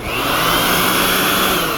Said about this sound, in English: This leaf blower is electric, so that means we have to plug an extension cord into the power cord on the leaf blower.